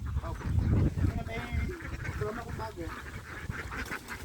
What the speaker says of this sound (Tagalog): Marami tayong nakikitang itik.